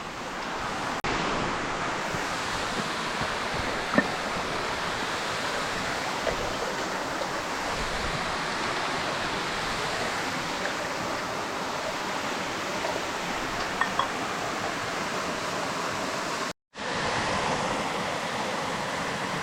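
A waterfall on the Gawarawila Plains hiking trail roars as a dense, steady rush of falling water, loud and unbroken apart from one momentary cut, with no voices.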